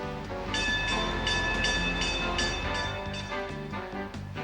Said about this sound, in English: a few bells are heard and their train starts down to the depot